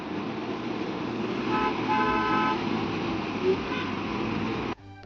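A busy road rumbles with passing motor traffic while a car horn sounds a sustained toot near the middle, heard from nearby before the sound cuts off abruptly.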